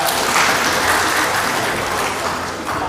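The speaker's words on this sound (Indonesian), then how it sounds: "Tepuk tangan." Brief burst of audience applause at a national defense training session in Indonesia, dense and fairly loud clapping that tapers slightly toward the end.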